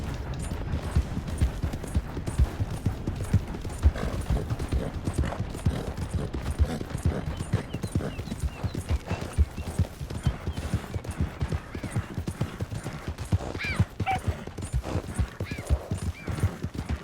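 Steady clip-clop of horse hooves galloping in the video game Red Dead Redemption 2, a continuous fast rhythm of close, moderately loud hoofbeats with occasional mechanical clinks and no talk.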